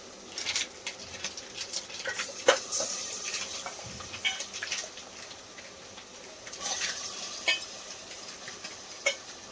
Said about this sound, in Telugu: ఇప్పుడైతే ఉల్లిగడ్డలు మంచిగా గోలినాయి. ఇప్పుడు మటన్ వేసుకుందాం.